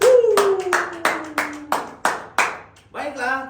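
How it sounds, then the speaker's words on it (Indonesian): Hands clap about eight times in a quick, roughly even rhythm, loud and close, while a voice talks over the first half and again near the end. "Tepuk tangan dulu."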